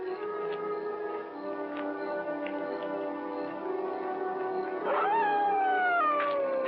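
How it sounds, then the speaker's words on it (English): A dog howls in long, wavering tones from some distance, the pitch rising and sliding near the end, with no talking. "that dog's howling about?"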